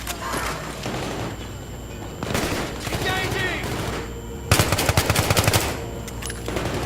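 Gunfire in the video game Battlefield 3, with rapid bursts of automatic fire and shots mixed with game noise, loudest in a dense volley near the middle, while someone talks over the action.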